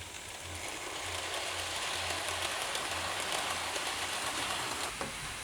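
A Bachmann model locomotive, the 440 City of Birmingham, runs along its track with a soft, continuous whirring hiss and a faint low hum pulsing in a steady rhythm.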